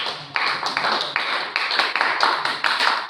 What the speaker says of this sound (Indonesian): Tepuk tangan dulu untuk kelompok